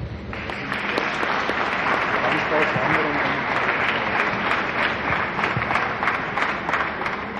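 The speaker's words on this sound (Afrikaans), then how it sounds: "Ek dink julle kan vir julle self 'n groot hande klap gee." Audience at a matric farewell giving a long, steady round of applause, dense continuous clapping from a crowd throughout.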